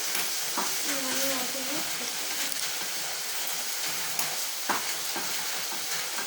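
Liver fry being stirred in a pan, a steady hissing sizzle with intermittent scraping clicks of a utensil, and a brief murmur of voice early on.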